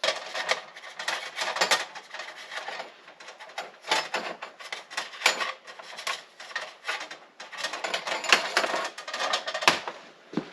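Cutting a steel brake line on a Ford Econoline van, heard as a run of dry rasping, scraping strokes in uneven bursts, close and fairly loud with short pauses between them.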